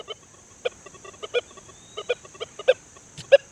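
A Deus 2 metal detector with a small search coil gives a sequence of short electronic chirps and warbling blips, irregularly spaced over a steady high whine, clear and close with no talking.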